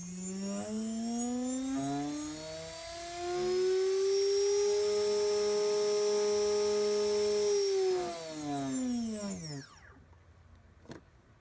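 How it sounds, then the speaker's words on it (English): A small electric motor with no propellers fitted spins up under a potentiometer, its whine climbing steadily in pitch, holding high and loud for several seconds, then winding down and cutting off with a brief click. "as I turn this potentiometer here, the motor will spin up and give me a live reading of the current that it draws"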